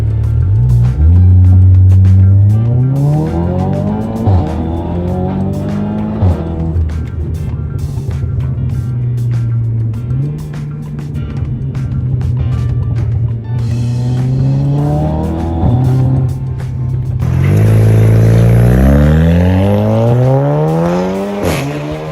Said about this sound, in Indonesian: barusan kita udah nyobain Audi S3 ini, gila banget, dia 0 sampai 100 tuh bahkan nggak sampai 4 detik